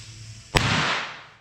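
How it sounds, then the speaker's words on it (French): A small firecracker goes off inside a toy cannon with a single sharp bang, followed by a hissing, fading burst of noise and echo, close and loud, with no voices. "Là c'était avec un petit."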